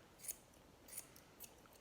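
Scissors snip hair around the pads of a golden retriever's front foot: three crisp, quiet cuts spaced about half a second apart, close up with no talking.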